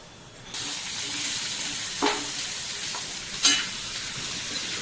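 Tondli (ivy gourd) with mustard seeds being stir-fried in a pan, a steady sizzle with a couple of sharp scraping stirs standing out, close and continuous, no talking.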